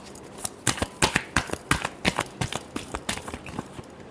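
Tarot cards shuffled by hand in a quick run of crisp riffling snaps and slaps, close and fairly loud, with no talking over them.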